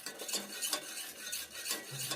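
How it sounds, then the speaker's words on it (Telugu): A ladle stirs and scrapes through a cooked tamarind mixture in a pot, with soft rhythmic strokes and light metallic scrapes repeating several times, fairly quiet and close. "గంటతో ఇట్లా కలుపుకొని"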